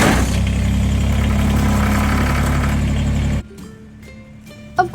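A loud, steady engine rumbles for several seconds, then cuts off abruptly, leaving quiet with a few faint clicks and a knock.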